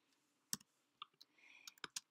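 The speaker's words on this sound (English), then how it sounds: "I'm going to try to type them in here." Computer keys click in a quiet, irregular sequence of a dozen or so light taps as chemical formulas are entered, close and soft with no voices.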